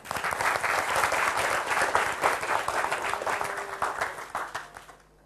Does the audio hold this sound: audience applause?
yes